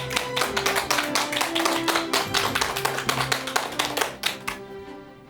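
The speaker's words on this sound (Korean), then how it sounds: "큰 박수 부탁드립니다." An audience in a lecture hall gives sustained applause as a family medicine doctor is welcomed onto the stage, a steady dense burst of many hands over a faint musical tone, fading out at the end.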